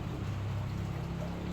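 Rain falls steadily as a faint, even hiss with a soft low rumble underneath, unbroken from start to end and without voices.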